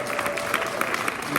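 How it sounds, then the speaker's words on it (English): Poetry festival audience applauds steadily, dense clapping from a crowd throughout, close and continuous. "Can we please give a round of applause for Sally Ashton?"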